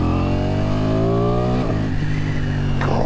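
A 2023 Ducati Streetfighter V4S in road mode revs loud and close, its engine note holding a rich, steady roar that climbs slightly in pitch, with short blips partway through and no voices.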